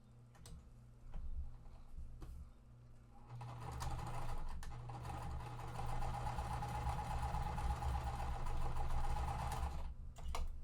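Sewing machine stitching quilt pieces for a mystery quilt, a steady close mechanical whir that starts around three seconds in and runs continuously to the end, after a quieter stretch of light handling clicks.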